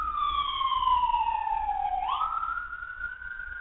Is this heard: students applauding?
no